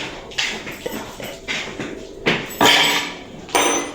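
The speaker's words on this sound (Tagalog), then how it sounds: "Pinupukpok po niya na itong plies." Several sharp metallic taps and knocks at an uneven pace, pliers used as a hammer while making a window, close and fairly loud with no voices.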